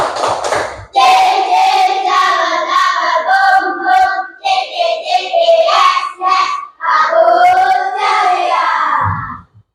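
Schoolchildren in class do the 'tepuk ceria' clap chant together: a loud chorus of voices in sing-song phrases, punctuated by sharp claps, running almost continuously with short breaks.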